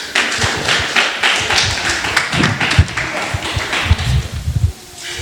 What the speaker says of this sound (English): let's give them a round of applause as they walk up to the stage